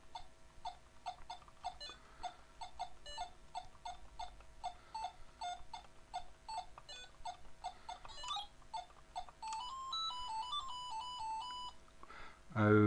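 A vintage 1992 Grandstand handheld plays its Minesweeper game-over tune after a mine explodes, a string of short, rhythmic electronic beeps followed by a rising melodic jingle, close and moderately loud, ending in a brief louder burst.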